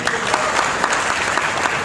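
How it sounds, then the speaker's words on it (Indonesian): A crowd at a political campaign address applauds the speaker, a loud, dense and continuous roar of clapping hands filling the room without pause. "Tepuk tangan untuk beliau."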